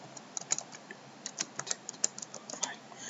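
A password typed on a computer keyboard, a quick irregular patter of faint, close key clicks over a low background hiss.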